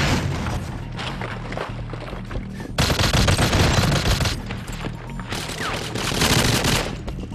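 Frag grenade blasts boom amid dense, continuous rattling gunfire in a GoldenEye Wii team match on the Nightclub map, the loud battle sound going on for several seconds with surges of louder bursts.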